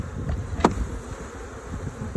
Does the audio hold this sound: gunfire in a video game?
no